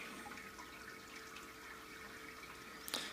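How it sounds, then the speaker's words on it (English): A homebrew grain bag lifted out of the wort for an ESB brew, the liquid draining back in a steady, moderately close watery trickle, with a brief sharper splash near the end. "I'm going to pull the bag out of the wort."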